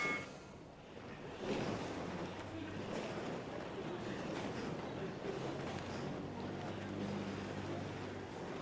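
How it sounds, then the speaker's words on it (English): Olympic men's rowing eights launching from the start, with oars splashing and churning the water amid a roar of water and boat noise, while a voice talks over it. "You've got 6 coxswains barking, 48 oars crashing into the water"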